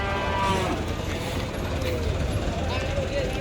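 Limousin cattle low and moo amid a busy Indonesian livestock market, with a steady crowd murmur, clanking and other animal noise filling the background throughout.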